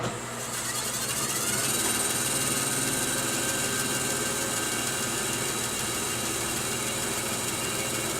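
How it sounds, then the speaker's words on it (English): A bandsaw running while a dowel is spun against its blade makes a steady, loud motor hum and whine with no pauses. "You turn on your bandsaw."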